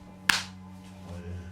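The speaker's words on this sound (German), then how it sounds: "Bitte mit deinen Fingern auf Händen auf Gesichtshöhe einmal klatschen." One sharp hand clap made at face height, a single crisp crack near the start, then quiet with a steady low hum in the room.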